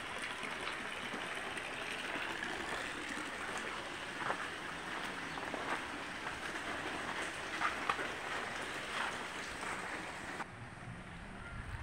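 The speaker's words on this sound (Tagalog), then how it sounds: "Ang lakas naman ng ulan." Rain from a low-pressure area falls hard and constantly in the Bicol region, Philippines, a wide rushing hiss with occasional louder splashes and drips standing out near the listener.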